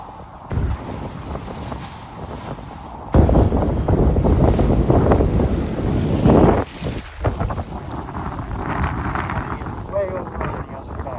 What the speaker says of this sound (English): the wind is throwing the water clear across here